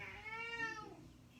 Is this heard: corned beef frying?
no